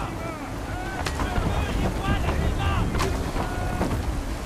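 Howling wind at sea during a storm aboard a sailing ship in Assassin's Creed 3, a steady roaring gust with creaking and faint tonal whistles, heard fairly close and alone.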